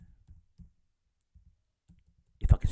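Computer keyboard keys clicking in a quiet room, several soft, scattered taps spaced irregularly, followed by a louder burst of clatter at the end.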